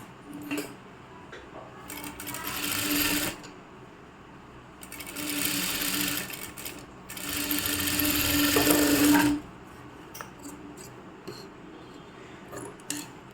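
A sewing machine stitches a churidar in three loud, close bursts of rapid whirring, each a second or two long, separated by pauses filled with small clicks and handling of the cloth.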